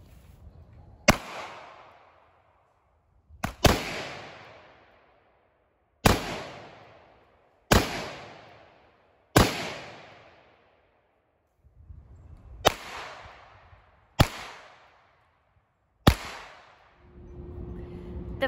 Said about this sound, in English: so you can see when the gunshot is actually detected on the system itself